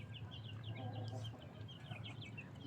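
One-week-old broiler chicks, a Jersey Giant cross, cheeping in a group: many short, high, rising peeps overlapping in quick succession over a low background hum, faint but steady.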